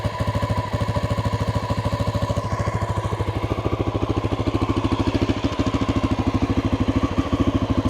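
A 1988 Honda NX650 single-cylinder motorcycle idles after a cold start, its close, even, thumping pulse repeating rapidly with a light mechanical clatter and no talk.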